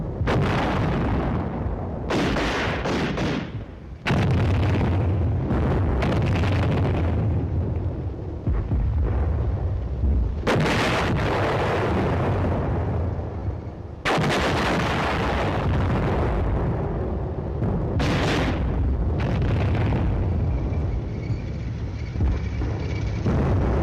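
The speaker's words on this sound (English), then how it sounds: "On Hill 501, enemy forces are alerted to Team Charlie's advance and commence firing defensive fires." Enemy defensive fire in a tank night-operations training film: a series of loud, booming artillery blasts and gunfire bursts with short pauses between them, heavy and close.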